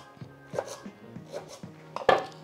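A knife chops zucchini on a board, about five dull thuds spaced at a steady, moderate rhythm, then a sharper, louder knock near the end. The setting is a home kitchen making zucchini soup. The chopping is close, with no talk.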